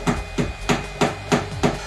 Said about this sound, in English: Just sort of working it with the hammer now.